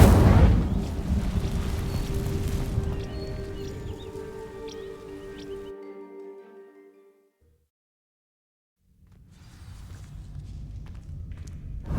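A fire spell cast in the video game Hogwarts Legacy bursts out with a loud, roaring whoosh that crackles and rumbles, then fades away to near silence before quieter game ambience returns.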